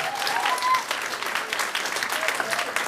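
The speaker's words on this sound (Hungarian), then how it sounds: "nekik is egy tapsot" Audience applause at a village Advent folk dance performance, brisk continuous clapping from a crowd, steady and moderately loud with a faint voice briefly audible.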